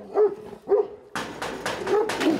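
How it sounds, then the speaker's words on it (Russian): Dogs bark from behind high fences at a residential property, two separate barks followed by a more continuous stretch of barking, fairly close and moderately loud. "За высокими заборами только и слышен лай собак."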